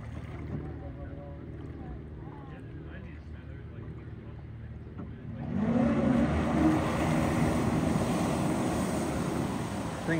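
Taiga Orca electric jet ski accelerating at hard throttle on open water, a rushing wash of spray and hull noise that swells louder midway and holds, with faint talk underneath.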